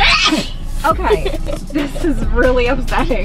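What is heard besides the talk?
sneeze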